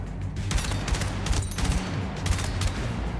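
Short bursts of gunfire from a weapon in Battlefield, a rapid cluster of close, punchy shots repeating every half second or so over a busy battlefield background, with no talking.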